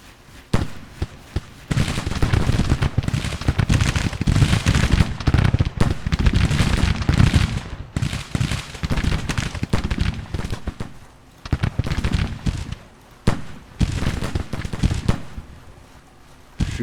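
Massed musket fire from troops in the Civil War strategy game Grand Tactician: The Civil War, a long, dense rattle of overlapping shots and booms that swells and ebbs in waves, loud and continuous with no talk.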